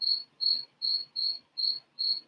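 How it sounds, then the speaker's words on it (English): A single large cricket chirps just outside a garage door in steady, evenly spaced bursts, six shrill pulses repeating alone with no talk. "that cricket is annoying. He just started up about 10 minutes ago"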